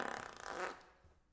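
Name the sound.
fart sound effect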